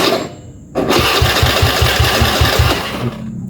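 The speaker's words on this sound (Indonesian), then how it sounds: "Nah, starter langsung hidup ya kalau langsung ke negatif aki." A motorcycle's electric starter, wired straight to the battery negative, cranks with a loud, close, rapid rhythmic whirring for about two seconds without the engine catching, then stops.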